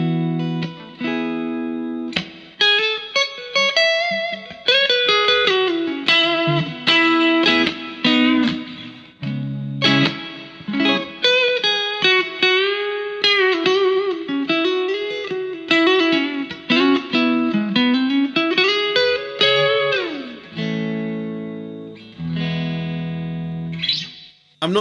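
An electric guitar runs through a pedalboard with a plate reverb pedal set to a short pre-delay, playing melodic distorted lines and chords whose notes ring out into a lingering reverb tail, close and loud with no talking.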